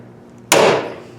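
A hammer strikes the window trim on a 442 Cutlass: one loud, sharp, close metallic blow that rings and fades over about half a second, with no talking.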